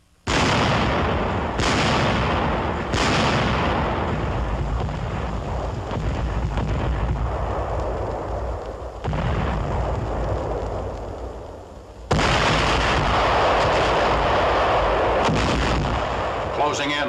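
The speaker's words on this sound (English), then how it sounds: "The ultimatum is rejected and hundreds of guns open fire on the encircled city." Massed artillery of hundreds of guns firing on the encircled city of Aachen in 1944: loud, continuous rolling booms and blasts with sharp new salvos breaking in, no voices.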